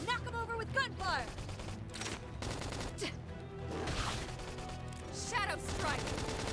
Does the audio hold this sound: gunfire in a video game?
yes